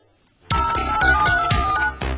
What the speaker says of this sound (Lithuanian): Dabar pirmasis skambutis į mūsų studiją.